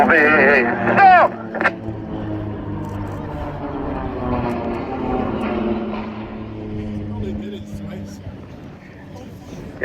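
A jet aircraft flies past at the RAF Cosford Airshow 2025, its engine roar a steady, fairly loud wash beneath continuous public-address commentary from a man.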